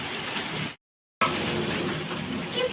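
Heavy rain pouring down at the onset of a hailstorm, a dense steady roar of falling water broken by a short silent gap.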